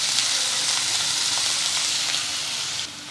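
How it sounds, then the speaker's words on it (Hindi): Finely chopped onions fry with bay leaves in a hot pan, making a steady, loud, close sizzle that holds throughout and eases slightly at the very end, with no one talking. "हम इसमें 2 प्याज डाल रहे हैं, बारीक चॉप की हुई।"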